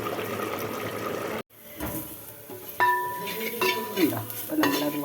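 Kappa biryani curry seasoned with turmeric and salt is stirred in a pan, with scraping, clinking spoon strokes and a soft sizzle close by, under someone speaking.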